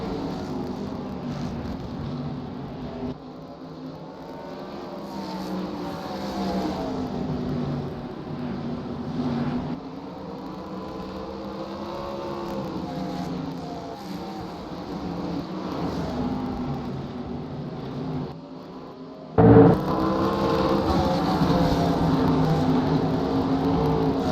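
Modified race cars circling the Oxford Plains oval during a Modified Tour race, a continuous roar of several engines rising and falling as they pass, with a loud burst near the end.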